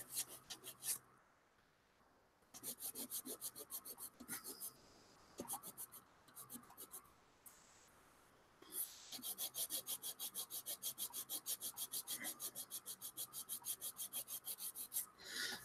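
Repeated rhythmic rasping strokes of sanding a plastic model, in bursts with short pauses, then a long steady run of fast back-and-forth scrubbing, fairly close.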